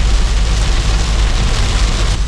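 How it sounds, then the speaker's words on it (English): Heavy torrential rain pours down steadily during a road trip, a dense, constant roar of downpour with no pauses, loud and close throughout. "we are experiencing heavy torrential rain right now"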